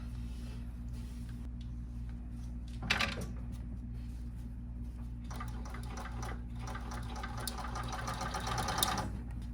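Blind hemmer sewing machine stitching a drapery hem, producing a steady low motor hum punctuated by brief bursts of faster, busier stitching clatter, quiet and close with no speech.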